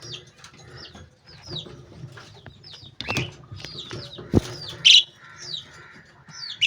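Hagoromo budgie chicks and a hen chirp and chatter inside a breeding box, with repeated short, high tweets and a few louder squawks and calls close by, with no talking.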